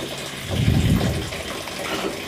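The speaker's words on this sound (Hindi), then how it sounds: "देखिए, हम दोबारा इसमें पानी भर रहे हैं" Water being poured into a bowl of sprouts, a soft steady splashing gush with a fuller swell near the middle, close and fairly quiet.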